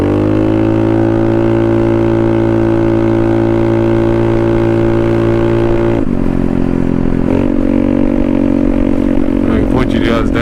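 A Honda Navi scooter engine fitted with a carb kit runs steadily on a test ride, a close, loud droning buzz that holds pitch, then dips and wavers as the throttle shifts, with wind noise rising near the end.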